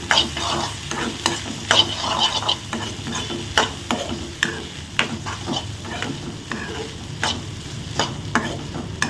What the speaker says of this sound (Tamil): நம்ம சாதம் வடித்து ஆற வச்ச சாதத்தை வந்து இதில் கொட்டிக்கலாம் இப்போ நல்லா மிக்ஸ் பண்ணிக்கலாம்